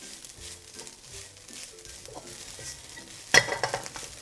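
Ginger fried rice stir-fries in a pan, a soft, continuous sizzle broken by scraping stirs and one sharp metallic clank of the spatula near the end, with no one talking.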